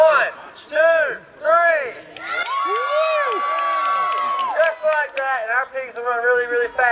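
Crowd of spectators at a pig race cheering and shouting loudly, with children's high whoops, rising into a sustained roar for several seconds before breaking into scattered yells.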